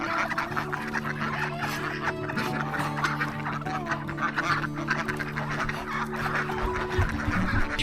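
Ducks quacking among other fowl on a rural farm in Morong, Bataan, a busy chorus of overlapping calls near and far over steady outdoor background, with no talking.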